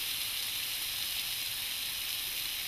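Sliders and peppers sizzle steadily on a grill, a continuous bright frying hiss that holds at an even level throughout with no voices.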